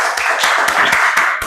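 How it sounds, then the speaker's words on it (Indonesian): Clapping at an Indonesian talk on high school students sent to military barracks, a few sharp hand claps standing out in a rhythmic pattern over a steady wash of noise, loud and close. "Beri tepuk tangan yang meriah"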